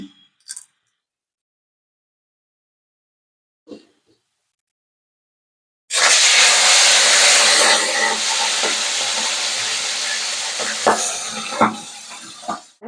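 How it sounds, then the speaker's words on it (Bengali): Fish fries in a hot pan, a sudden steady hiss of oil starting after several seconds of near silence and continuing strongly with a few louder crackles toward the end. "ততক্ষণ মাছটা একটু ভেজে নিই"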